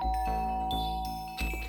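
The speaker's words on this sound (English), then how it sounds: "I guess I should press the doorbell." A doorbell chimes in the Danganronpa video game, clear bright tones ringing out over a steady background music bed, with no speech.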